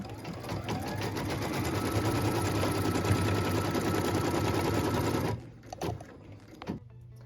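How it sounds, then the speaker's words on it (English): A sewing machine stitches a cut line across pieces of a Wild Goose Chase quilt block, a loud steady mechanical whir running continuously for several seconds, then stopping with a few faint handling clicks. "What we're stitching now is that cut line across pieces 6 and 7"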